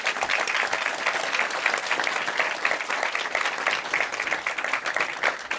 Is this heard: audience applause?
yes